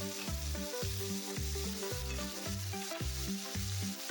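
Vegetables frying in a pan sizzle steadily while a utensil stirs and scrapes them in a quick, regular rhythm, close and clear with no talk.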